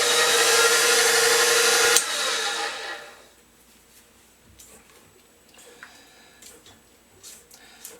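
Amish bread batter with vegetable oil is mixed by an electric mixer, which whirs loudly and steadily for about three seconds, then stops, leaving faint scraping and clicks.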